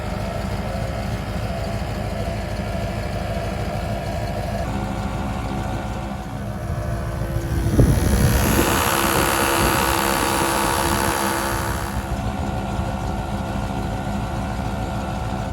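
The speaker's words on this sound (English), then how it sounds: "So we'll start the engine, start the compressor," ARB twin air compressor running alongside a Jeep CJ engine at idle, a steady droning hum that swells briefly as the compressor kicks in and holds on, with no talking.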